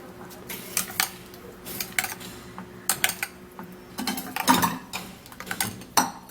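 A cucumber and baking soda mixture being stirred in a bowl, with a run of clinking, scraping utensil strikes in uneven bursts, fairly close and with no talk.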